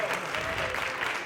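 Applause from a studio audience on a Spanish-language science program, dense continuous clapping filling the whole short stretch at a steady level.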